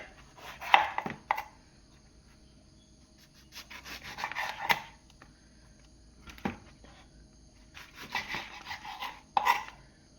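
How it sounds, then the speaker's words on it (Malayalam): A knife chops a vadukapuli lemon held in the hand, without a board, while making an Onam pickle. Quiet clusters of crisp cutting strokes come in several short bursts with pauses between, and there is no talking. "ഞാൻ കൈ പിടിച്ചങ്ങ് അരിയാട്ടോ"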